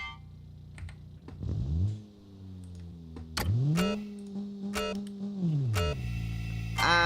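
A 210-horsepower car launching in a racing game on a gravel circuit, engine note rising through gear changes, holding steady, then dropping and climbing again, loud and close with no talk.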